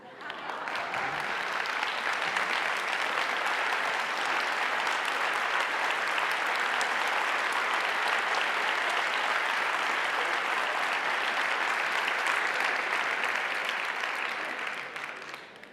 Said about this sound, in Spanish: os voy a pedir un favor, y es que os levantéis y me deis un aplauso muy fuerte para acogerme